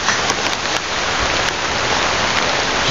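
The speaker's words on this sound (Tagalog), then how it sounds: "At sobrang ulan ngayon." Heavy rain pours steadily and loudly, a dense, continuous hiss of drops hitting surfaces, with no voices.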